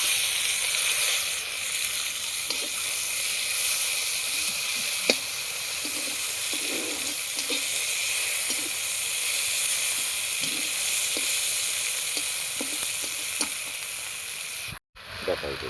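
Tomato fries in hot oil for a fish curry, a steady, bright sizzle and hiss with scattered soft stirring clicks, ending in a short cut near the end.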